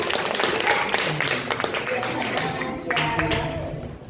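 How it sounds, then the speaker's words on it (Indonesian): A classroom of students applauds during a microteaching lesson, a brief burst of scattered hand clapping heard close alongside voices talking over it. "beri tepuk tangan"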